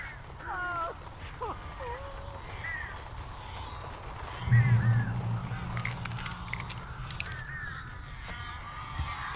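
Crows cawing in the video game Alan Wake Remastered, several harsh calls scattered across the scene over a low rumbling ambience, with a brief deeper hum midway and no talk.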